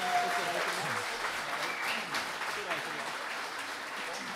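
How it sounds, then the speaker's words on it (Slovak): Audience applause at a Slovak folk music CD launch event, steady dense clapping filling the room at moderate loudness throughout, with no speech over it. "Ešte jeden veľký potlesk pre nich"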